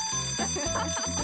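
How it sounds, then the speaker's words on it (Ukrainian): An electronic school bell rings in a steady, continuous buzzing tone, loud and close, filling the whole moment with no talk over it. "Дзвоник."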